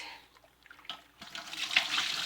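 Dirty brown water pours out of the tank of a Hoover Carpet Basics Deluxe carpet washer, a splashing, gurgling stream that starts quietly and builds to a steady rush of liquid.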